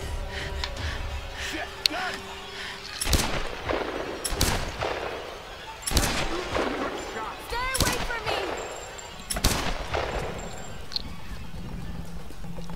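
Gunfire in the Tomb Raider video game: several sharp, loud shots spaced a second or two apart, with speech in between.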